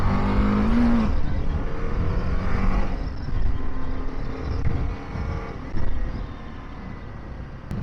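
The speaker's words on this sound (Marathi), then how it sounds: "गाडीच्या आवाजामध्ये पण फरक आलाय. एक्झॉस्ट नोट पण थोडीशी चेंज झाली आहे." A BMW G 310 GS motorcycle fitted with a K&N air filter, its single-cylinder exhaust droning loudly and steadily while riding, with rising revs and wind rush and no talk.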